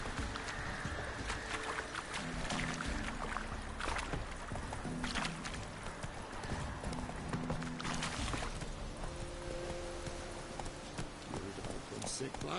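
The horse Roach gallops in The Witcher 3 video game, hooves clopping in a fast continuous rhythm amid game sounds and other clatter, with speech over it.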